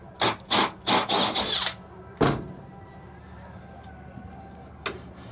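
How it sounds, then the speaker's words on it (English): A power drill hammers a metal bar into drilled holes to hold batteries for a 12V off-grid setup. It fires a rapid run of four or five short, loud bursts, then a single hit, then a fainter one. "And then you just hammer it in with a drill."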